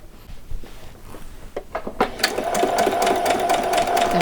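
Sewing machine stitching across the seams of a doll saree: soft handling clicks at first, then a steady motor whir with rapid needle ticks that builds and runs continuously, fairly close.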